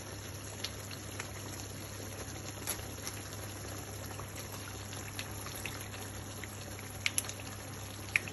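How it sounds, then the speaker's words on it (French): A sauce of garri with veal stock simmering in a pot, a soft, even bubbling hiss with faint scattered pops over a low steady hum, quiet throughout. "Je laisse encore mijoter."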